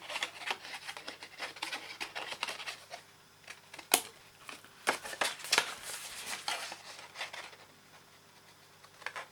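Paper being cut along a score line with scissors while making a tiny handmade brag book, heard as soft, close, irregular snipping and rustling, with one sharper snip partway through and no voices.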